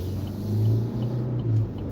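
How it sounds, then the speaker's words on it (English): A car accelerating on a road: a deep engine rumble that swells, eases and rises again over two seconds, moderately close and with no voices. "And you hear the car accelerating up."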